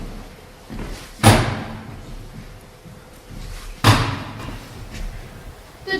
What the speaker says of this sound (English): The thudding bang and sound of splintering wood echoed in the stairwell